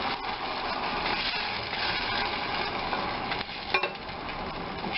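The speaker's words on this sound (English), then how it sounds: "listen to that sizzle." Steady, dense sizzling of food frying in a pan, continuous hiss throughout with a brief clink of utensils near the end.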